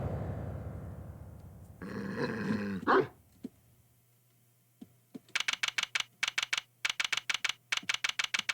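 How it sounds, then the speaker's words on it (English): A dog growls for about a second in the Ace Attorney Investigations video game, with a low rumbling snarl. Quick bursts of rapid typewriter-like text clicks follow, separated by short pauses. "What the dog doing?"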